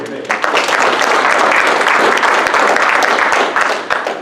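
Loud, close audience applause at a Kitsap Patriots Tea Party gathering, a thick continuous wash of clapping that swells in quickly and stays full before easing slightly at the end.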